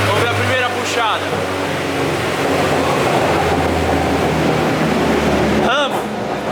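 A modified turbocharged Ford Focus street car pulls hard under acceleration, its engine roaring loud and close with a rising note throughout, and a brief whooshing turbo flutter near the end.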